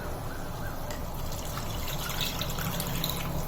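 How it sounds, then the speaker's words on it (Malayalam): Thin coconut milk pours steadily into a pot of fish molly curry, a continuous liquid trickle and splash heard up close against a soft, even background hum. "രണ്ടാം പാലൊഴിക്കാം"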